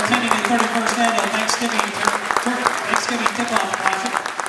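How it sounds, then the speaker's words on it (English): A gym crowd applauds the all-tournament team at a high school basketball tournament, steady echoing clapping with voices mixed in throughout. "a round of applause for all tournament team"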